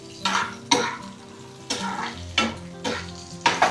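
Mysore bonda mixture sizzles in a pan while a spoon scrapes through it in about six distinct stirring strokes, each a sharp clatter, close and fairly loud.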